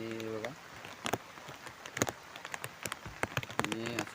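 Heavy rain falls on paddy fields during rice transplanting in Konkan, a steady hiss with scattered sharp drop impacts, while a voice talks over it at the start and end.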